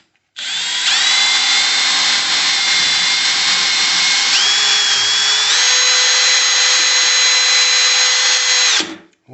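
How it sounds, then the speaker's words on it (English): A power drill bores into a wall while a bookcase bracket is being fitted, running loud and steady for about eight seconds with a slight shift in pitch partway through, then stopping. "then we drill into the wall"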